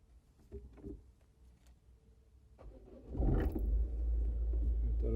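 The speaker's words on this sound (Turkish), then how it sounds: "O yüzden aracı çalıştıracağım." A car engine is started during a heater fan switch repair: quiet clicks and faint handling noises, then a loud starter crank that catches at about three seconds and settles into a steady close idle rumble.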